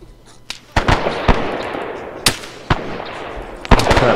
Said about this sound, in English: I heard some incoming fire there.